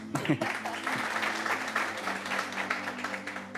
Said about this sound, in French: Mais si ça marche, comme d'habitude, vous applaudissez